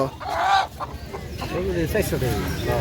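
Native red roosters cluck and call repeatedly at a rural poultry market in Bangladesh, their harmonic squawks loud and close against a busy background murmur.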